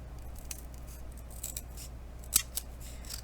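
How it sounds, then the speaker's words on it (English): Scissors make a few faint, quiet snips while trimming the paper edge of a small handmade Christmas book ornament, with one sharper cut standing out in an otherwise hushed room. "So what I tend to do is take my scissors"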